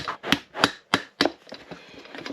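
Tapping a boat wheel part down with a screwdriver used in place of a hammer, giving about five sharp, close knocks in an uneven rhythm, followed by softer, quicker taps and light scraping.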